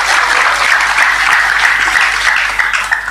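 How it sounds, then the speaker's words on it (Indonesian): A large audience of santri at a Gus Muwafiq gathering in Indonesia bursts into loud, dense applause, with continuous clapping from many hands filling the whole stretch without any voices. "Lho tepuk sing banter, gak usah sungkan-sungkan."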